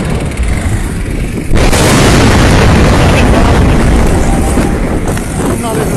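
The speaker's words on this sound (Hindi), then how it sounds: "धमाके शाहदरा मोड़ पे। देखें क्या हाल हो गया शाहदरा मोड़ पे।" An LPG blast at Shahdara Mor: a sudden loud burst lands about a second and a half in, giving way to a sustained roaring rumble that stays loud throughout.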